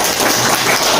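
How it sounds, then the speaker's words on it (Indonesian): Applause from a school audience in a Jakarta junior high Islamic studies class, a dense, steady wash of clapping hands that fills the whole second at an even level with no voices standing out. "Tepuk tangan dulu dong"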